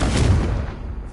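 A Confringo fire spell blast in the Hogwarts Legacy wizarding game: a single loud, low boom that rolls off and fades within about a second, heard alone.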